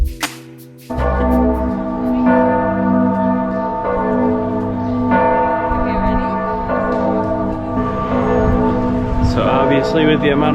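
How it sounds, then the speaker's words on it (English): Church bells ring at noon in Florence, Italy, several bells pealing together in a rich, sustained, overlapping clang that stays loud and steady throughout, with city background noise underneath. "With the amount of bells going on, it is noon"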